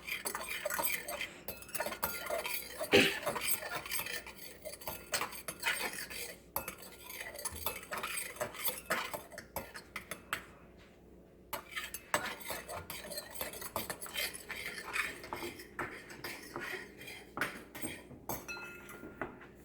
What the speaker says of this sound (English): you wanna stir it really nice